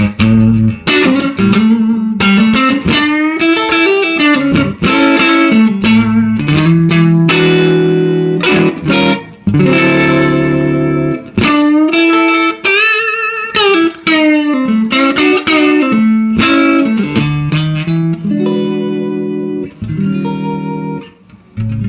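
Clean electric guitar played through a Stovall DR-22 Deluxe Reverb amp with the treble turned off for a fat, scooped-mid tone; continuous melodic playing with sustained notes and chords, loud and close, no voices.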